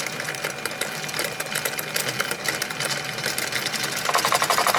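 A device built from two sets of 3-phase wire coils, powered at about 5 Hertz, spins and wobbles with a steady, dense mechanical whirring and rattling up close, continuous and slightly rising in intensity toward the end.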